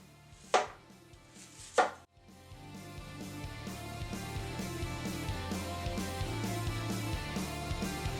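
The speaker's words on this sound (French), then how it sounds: "on va la couper en petits cubes" Sweet potato being chopped into small cubes on a board: two sharp, close knife strikes near the start, then continuous softer cutting and kitchen clatter over a steady low background hum.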